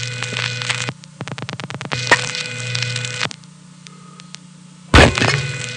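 Relays clatter in a #1 Crossbar telephone central office after the handset is hung up. A rapid burst of close, sharp clicks comes first, then single clacks and a loud final crack, all over a steady hum.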